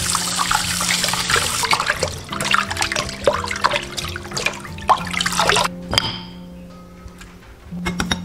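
Pork ribs are rinsed in clean water, with running tap water splashing and trickling over them alongside wet clatters and sloshing as the ribs are handled, close and loud with no speech, before the flow briefly stops.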